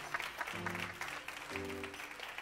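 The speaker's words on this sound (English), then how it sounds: "Put your hands together, give the Lord a mighty hand clap." Congregation clapping in church, a faint, scattered patter of hands under low sustained organ-like tones, quiet and short.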